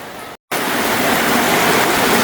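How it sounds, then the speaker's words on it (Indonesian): Heavy rain pours down steadily in a dense, loud hiss, briefly cut off by a momentary gap before resuming as an unbroken roar, with no voices. "lihat deras sekali hujannya"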